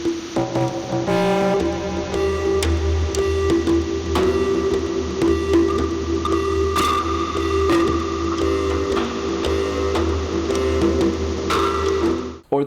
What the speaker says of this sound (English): Or this spring synthesizer.